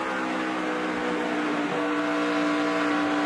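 A race car engine hums continuously with a steady high-pitched drone, heard on board during the Ford 300, holding a constant tone that shifts slightly partway through as the throttle breathes into a corner.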